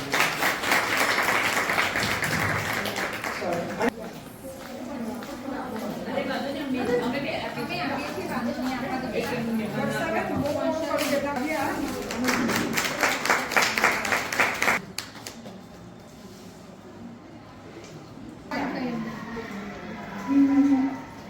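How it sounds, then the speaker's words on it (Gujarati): An audience at a V Clubs area meet claps for participants. A burst of applause fills roughly the first four seconds, then fades, and voices talking and singing take over. "બધા આપણે એમને તાળીઓથી વધાવીએ."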